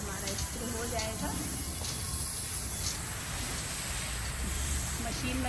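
A garden spray machine spraying insecticide onto plants gives off a steady, unbroken hiss that lasts the whole time, with someone talking over it.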